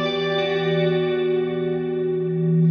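A Neunaber Wet Reverberator reverb plugin plays wet signal only, giving a sustained, shimmering wash of tone with a steady ringing chord and long smooth decay, alone with no voices.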